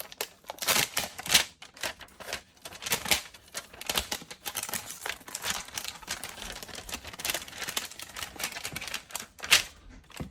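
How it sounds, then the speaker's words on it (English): Protective plastic film being peeled off a new Asus ROG Ally handheld makes close, dry crinkling and ripping bursts in irregular spurts over about ten seconds, with no talking. "Let's pull this plastic off."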